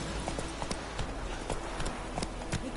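Hooves of Roach, a horse in The Witcher 3: Wild Hunt, clip-clop in a quick, steady galloping rhythm, near and prominent over a low continuous background.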